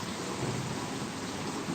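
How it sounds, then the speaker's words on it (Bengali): Light drizzling rain falls in a steady, even hiss that fills the whole moment, with no voices. "ঝিরঝির করে বৃষ্টি পড়ে যাচ্ছে এই যে"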